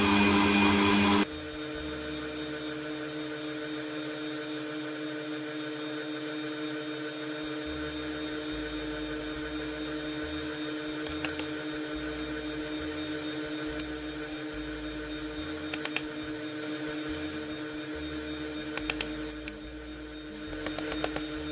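An electric hand mixer beats egg whites while sugar is added gradually for a coffee mocha chiffon cake, giving a steady, loud motor whine with constant tonal hum that runs unbroken for the whole stretch, with no talking.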